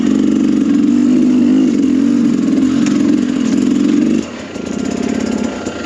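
Dirt bike engine pulling up a trail hill in second gear, a loud steady mid-pitched drone with a slight dip in revs near the end before it picks up again.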